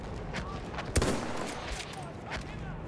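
Sniper rifle shot in Battlefield 1 on a D-Day map, one sharp loud crack amid distant battlefield gunfire and ambient noise.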